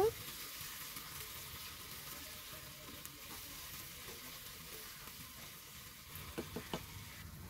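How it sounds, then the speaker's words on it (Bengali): Onion frying with tomato, ginger and garlic paste for palak paneer gives a steady, moderately quiet sizzle throughout, with a few soft stirring scrapes near the end. "পেঁয়াজটা হালকা লাল লাল করে ভেজে নেওয়ার পর টমেটো আদা রসুন পেস্টটা দিয়ে দিলাম।"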